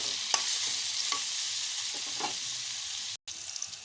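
Potatoes sizzle steadily in a hot pan, with a few soft stirring knocks and a brief gap near the end.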